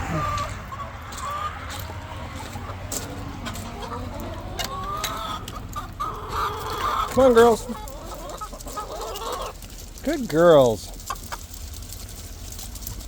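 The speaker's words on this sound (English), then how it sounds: "That's a herd of birds." Backyard ranch hens cluck and chatter nearby in a busy flock, with a few louder squawking calls rising out of the clucking while someone speaks softly to them.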